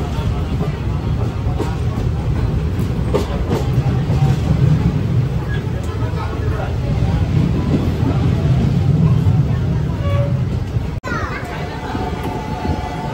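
A passenger train running on its rails, heard from inside as a steady low rumble with wind noise, continuous and loud throughout, with faint scattered knocks.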